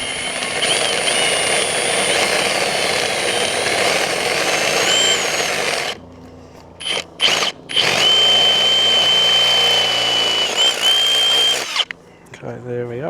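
A 9.5mm power drill bores a hole into a bracket on a 4WD. There are two loud, high-pitched whirring bursts, and the first is longer. Brief pauses and short starts fall between them, with quiet talk in the gaps.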